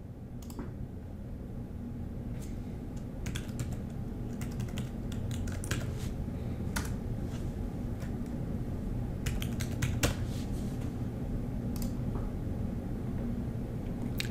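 Typing on a computer keyboard while registering point-of-sale software, with irregular bursts of close key clicks over a constant low background hum.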